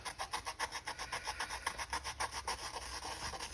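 Rhythmic rasping strokes scrape dried, caked-on salt off armor, a quick steady gritty rubbing back and forth repeated many times over a hard surface, close up with no voices.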